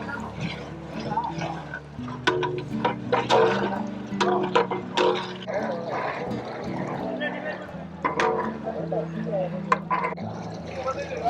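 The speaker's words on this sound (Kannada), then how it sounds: "ಈಗ ನೀರು ಹಾಕ್ಕೊತಾ ಇದ್ದಾರೆ" Water is poured into a large pot of village-style mutton dum biryani that already holds curd, splashing and gushing in uneven bursts while people talk over it.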